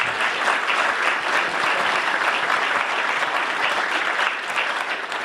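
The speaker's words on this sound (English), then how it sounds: "Can we give them a round of applause?" A conference crowd applauds loudly and steadily, dense clapping filling the room for several seconds before tapering slightly at the end.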